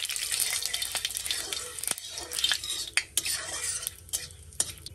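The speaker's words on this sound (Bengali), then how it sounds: "এইটাও নাড়াই দিই আর তেলটাও সারা কড়াইতে লাগিয়ে দিই।" A utensil stirs cumin seeds and a bay leaf in hot mustard oil in a kadai, making scraping, clinking strokes at an uneven pace over a faint sizzle, with no talking.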